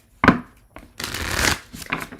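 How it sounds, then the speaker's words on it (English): Tarot cards shuffled by hand in a quiet room: a sharp riffle burst, a short pause, then a longer, steady stretch of close, crisp card shuffling with a few softer flicks at the end. "I'm going to shuffle"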